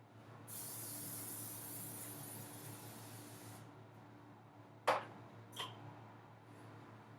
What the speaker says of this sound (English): I'm going to use vegetable oil to spray in the pan